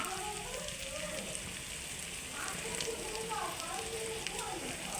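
Spices sizzling and frying steadily in a hot pan, ground turmeric, chili, coriander, cumin, meat masala, garam masala and salt for a jackfruit and prawn curry, a continuous soft crackle with a faint voice murmuring underneath.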